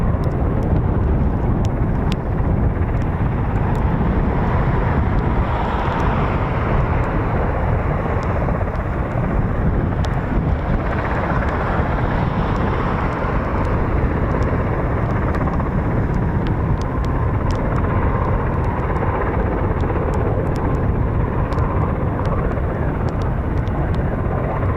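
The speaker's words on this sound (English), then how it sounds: "I can hear a KC-135 as well spooling." CV-22 Osprey tiltrotor with twin Rolls-Royce T406 engines alongside a spooling KC-135 at an air force base, a loud continuous turbine roar and rotor wash that holds steady throughout with no talking.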